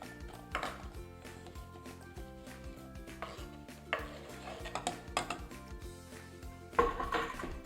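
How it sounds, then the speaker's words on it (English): Apples are dropped and tumbled into a pot, giving a string of uneven knocks and clunks against the metal over a few seconds, close by. "put my apples into a pot"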